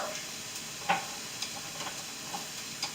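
Fish and meat cook together in a pan, giving a steady soft sizzle with occasional faint ticks and scrapes of stirring, fairly quiet and with no voices.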